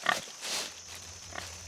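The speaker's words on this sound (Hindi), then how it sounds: "सुअर।" A pig on a forest path gives a few short, nasal grunts, the first brief and close, followed by a softer snort later, with low rumbling background noise and no talking.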